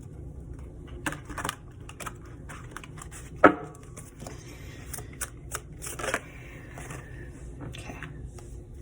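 Tarot cards being shuffled close by, a run of soft riffling flutters and papery slaps with one sharper snap partway through, over quiet room hiss and no talking.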